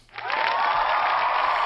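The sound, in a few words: applause sound effect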